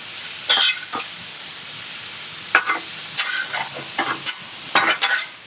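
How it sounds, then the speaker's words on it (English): Meat fries in olive oil in a pan for a Philly cheesesteak sub, with a steady sizzle and several loud bursts of crackling and stirring scrapes, no voices. "A little bit of olive oil. And let's just start cooking the meat."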